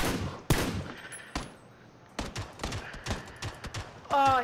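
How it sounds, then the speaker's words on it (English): Gunfire in the battle royale game PUBG: scattered single shots and quick bursts, some sharp and close, others softer and more distant, ending with a brief voice. "No, I'm shooting someone."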